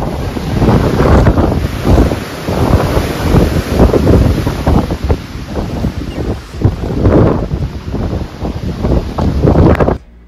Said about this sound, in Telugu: విండ్ ఎంత ఉందంటే ఆ విండ్ స్పీడ్కి మేమే ఎగిరిపోతున్నాం